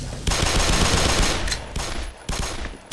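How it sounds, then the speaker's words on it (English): Rapid automatic gunfire in Black Mesa: Source, a dense burst of close, loud shots that briefly breaks and resumes in a few shorter bursts. "Nice shooting, bro."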